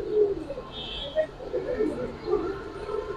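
Loft-flown homing pigeons coo in repeated low, throaty rolls, fairly close and continuous, with faint indistinct voices in the background.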